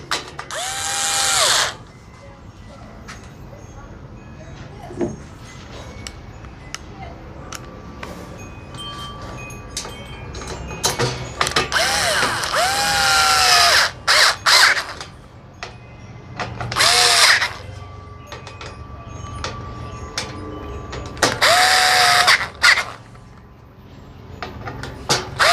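A power drill or driver runs in repeated bursts, driving and tightening screws into a blue Lasko B20308 box fan from 2015-16 during a cleaning and service, with quiet pauses and small clicks between bursts.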